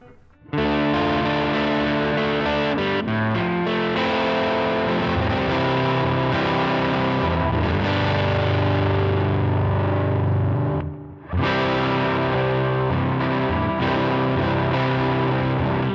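A high-gain electric guitar on its neck pickup, played through a Line 6 HX Stomp amp model, rings out crunchy distorted chords and riffs. The tone is thick and sustained, with a brief break near the end, played alone without talk.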